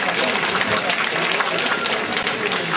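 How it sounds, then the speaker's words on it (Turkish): An audience at an association opening claps steadily throughout, a dense, even wash of applause that stays loud from start to finish with no break. "Evet, alkışlarla uğurluyoruz onları."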